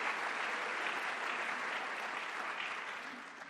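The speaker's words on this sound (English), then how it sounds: "Let's give a big round of applause for the Chief Diversity Officer of New York City." Audience applause at an investment manager conference, a steady, even wash of many people clapping in a large room, moderately loud and continuous, tapering off slightly at the end.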